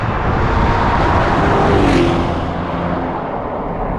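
BMW Alpina XB7 4.4-liter engine heard from inside while driving, a loud, steady broadband roar with a slight swell in the middle, continuous and close with no talk.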